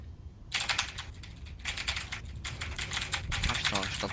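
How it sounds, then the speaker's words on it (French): Rapid clattering keystrokes on a computer keyboard during a Star Citizen gaming session, a busy burst of typing that runs almost the whole time with a voice talking faintly underneath. "je t'entends martyriser ton clavier quoi"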